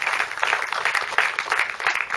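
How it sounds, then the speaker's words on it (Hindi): Audience applause welcoming a performer at a stage show, with a continuous patter of many hands clapping from start to end and no voices over it. "जोरदार तालियों से अमन भाई का स्वागत करते हैं।"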